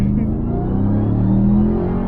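Engine of a 2021 Ram TRX pickup with a 702 hp supercharged Hellcat V8, accelerating with a steady, loud low rumble and a faint high supercharger whine rising over about two seconds.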